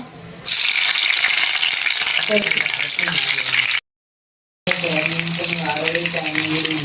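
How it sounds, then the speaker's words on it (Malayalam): Tomatoes sizzle loudly in hot oil in a pan, a steady close frying hiss that breaks off briefly and then resumes, with a voice faintly under it. "അപ്പൊ തക്കാളി ഇട്ട് കൊടുക്കുക. എണ്ണയിൽ വേണം വേവിച്ചെടുക്കാനേ."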